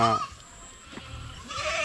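Goats on a farm bleat briefly at the start and again near the end, faint and somewhat distant over quiet outdoor background.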